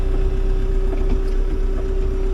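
A new tractor's engine runs at a steady idle while logs are piled for road preparation, a constant low rumble with a sustained hum, loud and near.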